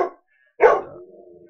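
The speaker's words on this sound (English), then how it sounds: "you're gonna hear my dog barking because, you know, dogs do that" A dog lets out a single sharp, loud bark that trails off into a fainter whine, breaking an otherwise quiet early-morning indoor room with no talking.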